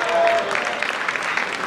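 Audience applause for comedian Jonathan Slocum at a live show, a short burst of crowd clapping with a voice heard briefly over it.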